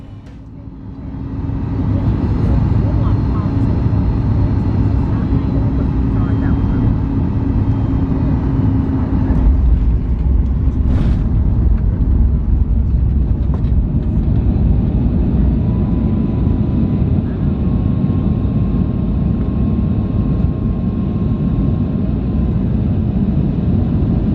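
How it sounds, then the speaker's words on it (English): A Bonza airliner lands on the short runway at Tamworth, heard from inside the cabin as a loud, steady roar of engine and rushing air that swells early and holds to the end. "Enjoy the landing onto the short runway at Tamworth."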